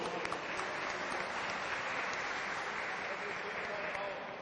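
Sustained applause from an audience at a wrestling award ceremony in Skopje, steady and dense throughout without a break.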